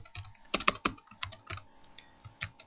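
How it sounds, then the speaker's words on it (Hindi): Quick, uneven clatter of keys on a computer keyboard, close and clear, a short burst of typing with brief pauses and no voices. "तो आप इसको टाइप कर दें सिंपल"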